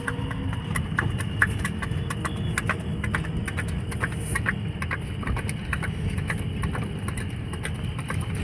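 Faint hoofbeats clip-clop in a steady, irregular patter under a constant low engine-like rumble, somewhat distant.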